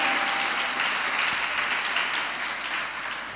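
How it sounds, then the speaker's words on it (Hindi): An audience at a religious discourse gives warm, sustained applause. The dense, even clapping fills the hall, then begins to taper off toward the end. "एक बार जोरदार तालियां बजा के स्वागत करें"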